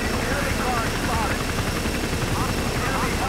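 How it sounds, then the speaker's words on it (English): Helicopter in Battlefield 2 passing near a water battle, a steady rotor-like drone mixed with scattered gunfire and engine noise, loud and continuous, with voices talking over it. "Hey! Chopper!"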